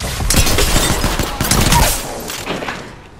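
Rapid bursts of automatic gunfire in Apex Legends ranked play, loud and close, fading toward the end with no talk.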